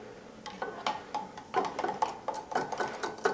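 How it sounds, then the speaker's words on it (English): A spoon clinks and scrapes against a glass while stirring a fizzy diet root beer drink, making a quick series of light, close metallic taps and rattles. "Give her a little stir."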